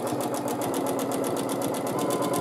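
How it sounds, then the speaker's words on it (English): A sewing machine runs steadily during free motion quilting, a loud, close, continuous rapid needle chatter with an even mechanical pulse and no pauses. "the free motion quilting is so much faster than the ruler work"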